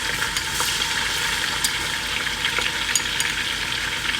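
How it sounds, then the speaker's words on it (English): Chopped tomatoes hit hot frying oil for okro soup, giving a steady, close crackling sizzle with scattered pops and spatters throughout. "Now I'm going to add my tomatoes."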